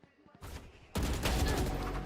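Vandal rifle fire in a Valorant pro match erupts abruptly into a sustained, loud burst of rapid shots after a brief quieter lead-in, dense and close.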